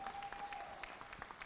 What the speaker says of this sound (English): let's give a round of applause for all the recipients thus far.